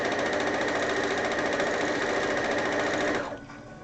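A sewing machine stitches a quilt in a fast, even mechanical chatter. It runs loud and close at a steady speed, then stops abruptly near the end, leaving a quiet hum.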